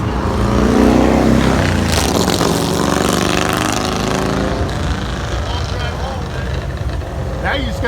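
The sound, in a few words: classic car with 455 engine driving off at car show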